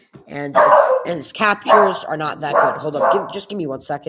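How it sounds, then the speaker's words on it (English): A dog barks repeatedly in quick yips and woofs, close by and loud, while a person keeps talking over the barking. "Sorry, that's just my dog."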